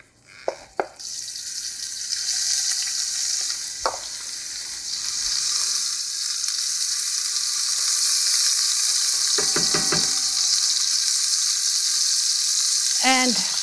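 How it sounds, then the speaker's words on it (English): Chopped pestata with bacon sizzling and rendering in a hot pot, a steady frying hiss that runs the whole time, broken by a few clatters and stirs of a utensil against the pot. "And we'll let the bacon sort of render a little bit, get flavorful"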